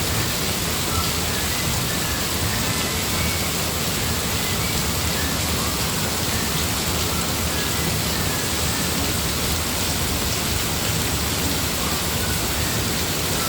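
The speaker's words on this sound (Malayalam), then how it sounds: "ഇന്ന് നല്ല മഴയാണ്" Heavy rain falls in a steady, dense roar that stays loud and even throughout, with no voices.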